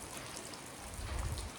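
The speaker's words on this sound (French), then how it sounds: "il pleut dehors." Steady rain falling outside, a soft continuous hiss of drops with a faint low rumble swelling briefly near the end, no voices.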